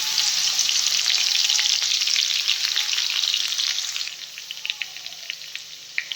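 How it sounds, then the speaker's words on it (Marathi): Garlic and cumin seeds sizzle in hot oil in a kadhai: a loud, steady hiss that eases after a few seconds into lighter, scattered crackles and pops. "जिरे टाकले, जिरे चांगले फुलले. आता लसूण टाकून घेते"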